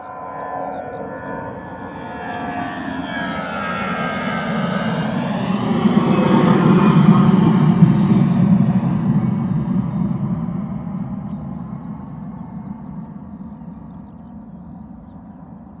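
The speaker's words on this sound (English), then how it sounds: "Beautiful departure from EasyJet coming at us," An EasyJet airliner departing Bristol Airport swells into a loud, close jet roar with a rising whine, peaks overhead, then fades slowly into a lingering rumble as it climbs away.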